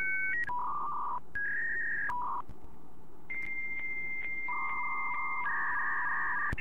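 An animated computer in an Among Us scene beeps as it powers on, giving a run of clear, loud, steady electronic tones that step between pitches like dial-tone keypad bleeps, with no speech.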